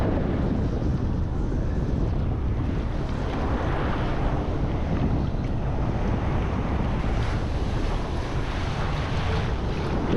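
Ocean surf on a beach, a steady, loud, dense wash of waves with heavy wind rumble on the microphone throughout, continuous with no distinct breaks and no talking.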